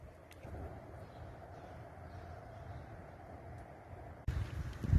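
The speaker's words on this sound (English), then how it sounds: "It's windy." Steady wind rushing against the microphone with a low rumble, gusting louder toward the end.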